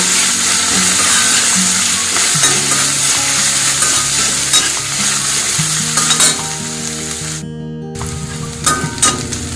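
Sliced onions frying in oil in a pan for bagara rice, a steady loud sizzle with a spoon scraping and stirring throughout, a brief near-silent gap, then the sizzling and stirring pick back up.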